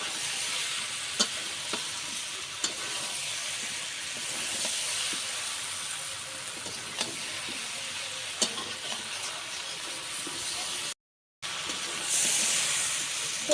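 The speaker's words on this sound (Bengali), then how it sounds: "এবার এতোরা আলু ভাজাগুলো দিয়ে দিলাম এগুলো দিয়ে খুব ভালো করে কষিয়ে নেবো" Fried potatoes and jackfruit stirred into a spicy shrimp masala in a pan, a continuous close sizzle with spatula scrapes and light clicks, briefly cut out near the end.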